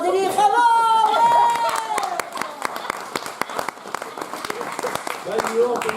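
A crowd applauds wildly as a cyclist crosses the finish line; scattered claps and cheers rise under excited voices talking over them.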